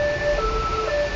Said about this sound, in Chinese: 警报呼啸中，救护车从车流拥堵的京一路突围